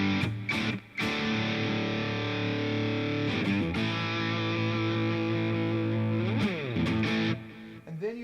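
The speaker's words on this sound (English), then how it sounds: "So what you do is you start off with a good distortion." An electric guitar runs through a distortion pedal, playing thick sustained chords with a buzzing, saturated tone, broken by brief pauses and pick scrapes, loud and up close with no talking.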